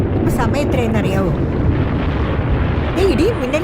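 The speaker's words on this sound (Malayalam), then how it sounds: "ഇടിയും മിന്നലും ഒക്കെ." Deep, continuous rumbling of thunder in a rainstorm, loud and steady through the scene, with voices speaking over it in places.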